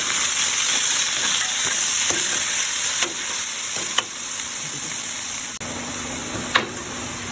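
Alamang shrimp paste fries with a little vegetable in a pan for pakbet, giving a loud, continuous sizzle broken by a few sharp stirring scrapes, with no voices.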